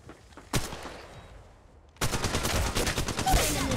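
Rapid automatic gunfire from the mobile battle royale game Apex Legends Mobile: a single sharp shot, a quieter lull, then a dense sustained burst of loud rattling shots filling the second half.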